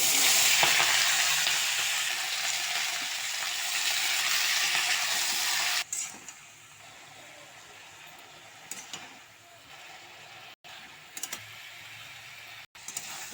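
Vegetables are stir-fried in oil with bay leaf and cumin in a kadai. A loud, dense sizzle fills the first half, then drops to a quieter hiss broken by scattered utensil clicks and taps.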